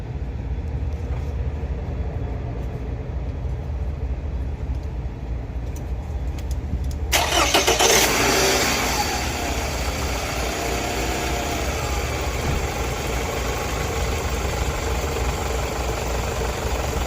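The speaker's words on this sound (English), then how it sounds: "I'm gonna start the vehicle" A Toyota Camry with a charging system malfunction cranks and fires partway through, after a stretch of steady low rumble, then settles into a constant idle that runs on unchanged to the end.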